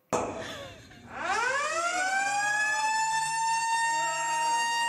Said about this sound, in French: une lunk alarme, qui est une alarme qui se déclenche lorsque quelqu'un repose ses poids un peu trop fort